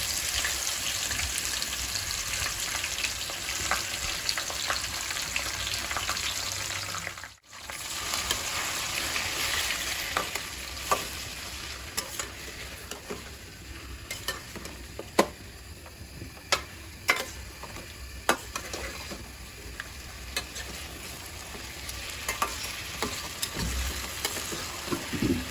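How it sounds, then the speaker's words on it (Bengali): Chicken with green chili frying uncovered in a pan gives a steady, fairly quiet sizzle with scattered ticks and clicks from the utensil, running throughout with a brief dip early on. "এভাবে আমি 2-3 মিনিট ভেজে নেব ঢাকনা ছাড়া।"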